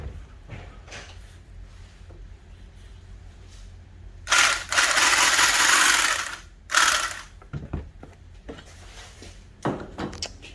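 A sewing machine stitches shut a shipping bag of live worms, running in two short close bursts of whirring, with quiet handling noises before and after.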